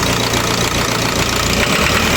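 An Isuzu 4HL1 diesel engine idles close and loud with a rough, knocking clatter, pitch shifting slightly as it is revved briefly.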